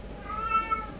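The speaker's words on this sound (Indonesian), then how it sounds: "dasar kucing" A cat meows faintly, a short drawn-out mew rising over a low indoor background hum, with no one talking.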